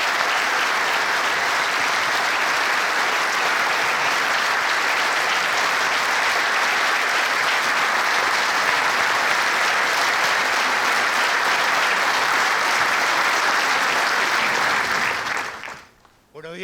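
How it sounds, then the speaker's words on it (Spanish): A large crowd at a trade-union meeting defending wage councils gives sustained, dense applause to welcome Mario Pérez, a loud even roar of clapping that holds steady before fading out abruptly at the end. "vamos a recibirlo con un gran aplauso"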